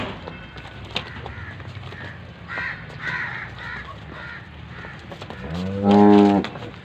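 A Friesian calf lets out one loud, close moo near the end, following a stretch of quieter farmyard noise with crows cawing intermittently in the background; no one speaks.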